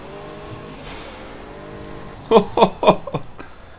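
Audi R8 LMS race car engine in the Project CARS racing game: a few sharp, loud revving bursts in quick succession near the end, following a quieter idling stretch.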